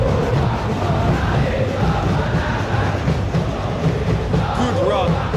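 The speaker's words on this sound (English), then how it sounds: "The crowd appreciates good football all round there." A stadium crowd roars in a virtual football video game match between Bali United and Dewa United, a dense continuous rumble of voices with a commentator talking over it.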